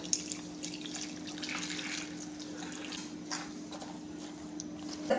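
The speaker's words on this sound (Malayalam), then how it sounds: "ഇനി കുറച്ച് വെള്ളം ചേർത്ത് കൊടുക്കുക." A steady stream of water splashes into a pot of avial, a Kerala mixed-vegetable curry, for several seconds, a continuous close hiss over a faint background hum.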